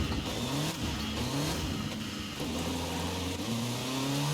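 Car engine in Forza Horizon 5 revving hard through many quick gear shifts, pitch climbing then dropping with each change, loud and continuous with no talking.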